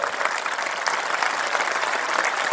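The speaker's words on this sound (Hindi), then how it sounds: "जोरदार ताली बजा के इनका स्वागत करिए आप लोग।" A rally crowd breaks into steady, dense applause welcoming a guest, loud and continuous from start to finish with no voices standing out.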